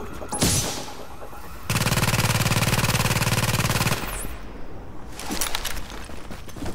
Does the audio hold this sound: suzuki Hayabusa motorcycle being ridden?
no